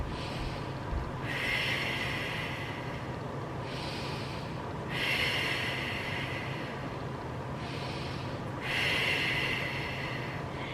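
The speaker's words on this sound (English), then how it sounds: "you're just going to kind of focus on breathing in and breathing out" Slow, steady breathing in and out, done lying down as a core exercise for back pain, with three long soft hissing breaths spaced several seconds apart over a constant low background hum.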